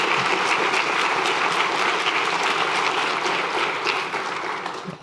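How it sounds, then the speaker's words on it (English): Dense, sustained applause from a large audience at a public health gathering, loud and even throughout before thinning slightly in the final moment; no voices rise above the clapping. "Give them a round of applause."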